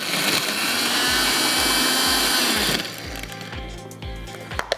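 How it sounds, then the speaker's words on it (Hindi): A kitchen blender grinds fried brown onion, ginger, garlic, whole garam masala and red chillies into paste, a loud steady whir that cuts off, leaving rhythmic low thumps and a couple of sharp knocks. "सब कुछ आपने पीसना है"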